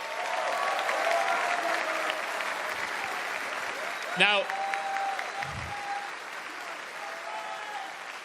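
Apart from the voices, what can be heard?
crowd applause for FaZe Clan at the Berlin Major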